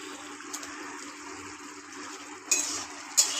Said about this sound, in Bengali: এবার দেখো ঝোলটা কি টকবক করে তুলছে।